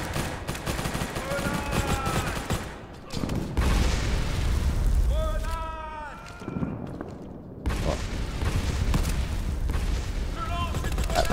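Dense gunfire and explosions in a 3 vs 3 World War 2 battle shooter game, with a Remington 12 shotgun among the weapons; continuous loud volleys and booms fill the clip, with short whistling tones and brief lulls between bursts.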